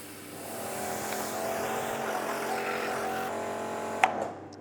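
A Bauer 3000psi electric pressure washer from Harbor Freight runs close by with a steady, loud motor whine and spraying hiss, then shifts near the end with a brief sharp knock before cutting off.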